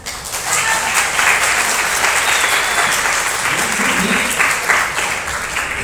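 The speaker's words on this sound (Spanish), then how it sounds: "los aplausos, gracias a todos" An audience at an intercollegiate school book-reading contest in El Oro, Ecuador, applauds steadily, a dense, even wash of clapping that holds for several seconds.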